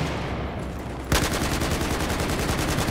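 Rapid automatic gunfire from the PC shooter Battlefield 4 in a team deathmatch, starting abruptly about a second in as a loud, continuous burst of evenly spaced shots over a background of game noise.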